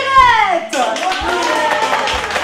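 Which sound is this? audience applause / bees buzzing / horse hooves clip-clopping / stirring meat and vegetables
audience applause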